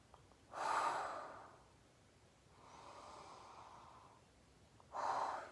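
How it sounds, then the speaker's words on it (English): Three slow, deep breaths taken through hands cupped over the nose and mouth, soft breathy rushes close up with quiet pauses between them. "cup your hands over your nose and your mouth and take a few deep breaths."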